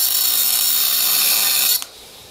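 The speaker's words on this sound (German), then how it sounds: "kein Mensch wird jetzt so ein dickes Stahlprofil mit so einem kleinen Winkelschleifer schneiden" A small Bosch 12V cordless angle grinder cuts a thick steel bar about 1.2 cm thick, giving a loud, steady high-pitched grinding screech that stops abruptly near the end.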